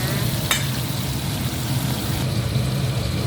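Sliced pork belly frying in fish sauce, a steady dense sizzle of hot oil that runs evenly throughout, loud and close, with one brief sharp crackle near the start and no talking.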